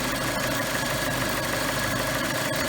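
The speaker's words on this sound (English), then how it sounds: "Just waiting for the engine to warm up." A 2.4-litre engine in a Plymouth Breeze, Dodge Stratus or Chrysler Cirrus idles while warming up after a thermostat replacement, giving a steady, even hum with a faint tonal whine and no talk over it.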